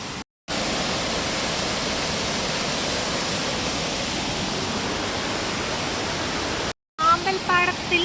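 A waterfall roars in a steady, dense rush of falling water heard up close, with a brief break near the end where people talk.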